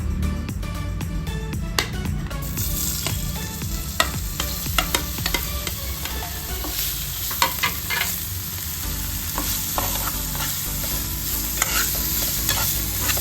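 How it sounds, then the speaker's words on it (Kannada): Paneer cubes fry in hot oil in a pan for palak paneer rice, a constant crackling sizzle with repeated scraping stirs and clinks of a spatula, close and steady, with no voice. "ಇವಾಗ ಆಯಿಲು ಕಾದಿದೆ. ಇವಾಗ ಇದಕ್ಕೆ ಪನ್ನೀರ್ ಆ್ಯಡ್ ಮಾಡ್ಕೊಳ್ಳೋಣ."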